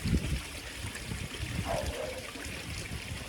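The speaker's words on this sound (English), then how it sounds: "having the water going in now, going through the dechlorinator" Fresh water runs through a dechlorinator into a koi pond, making a steady, close trickling and gurgling stream that continues without a break.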